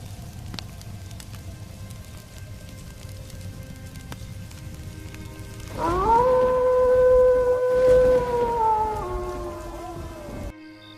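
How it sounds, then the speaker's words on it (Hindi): Steady rain falls on a cold day as a soft, even hiss that runs throughout, joined about halfway by a louder sustained tonal howl that slowly wavers and fades. "आज तो बारिश हो रही है"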